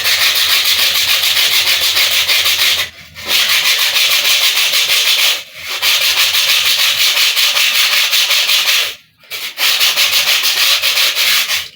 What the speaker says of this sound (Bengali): শেষ পেপার আনার পরে এটা দিয়ে এভাবে করে ঘষবেন এভাবে টুকরা করে নিয়ে